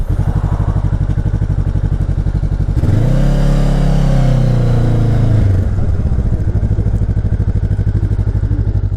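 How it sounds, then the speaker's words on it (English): A 2022 Honda CB500X with a 180-degree parallel-twin engine runs close and loud, idling with a steady throbbing pulse, then rising briefly in a rev around the middle before settling back to idle. "the engine, and I've got to admit, I'm not normally a fan of a 180 parallel twin."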